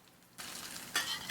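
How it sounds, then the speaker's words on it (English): Codfish patties hit hot frying oil with a bright, steady sizzle that jumps in loudness as a second one goes in, close and clear with no voices. "Oil's hot, and can hear that sizzle."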